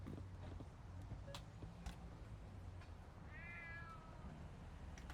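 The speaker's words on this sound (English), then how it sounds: "There's a cat over there." A cat in the retro horror adventure game Boreal Tenebrae gives a short, faint meow midway through, over a low ambient hum with a few soft clicks and taps.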